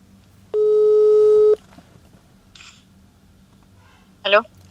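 Redialing a telephone call produces a steady line tone lasting about a second, followed by brief faint electronic chirps.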